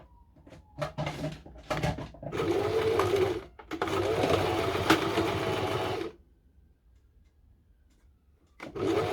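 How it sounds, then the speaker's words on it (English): A sewing machine stitches an elastic band onto a skirt, starting close to the fabric edge. Loud close-up bursts of whirring run for about six seconds with a short pause, then silence, then a brief restart at the end. "make sure your first stitch, or if that's all your stitch as well, start from very close to the edge"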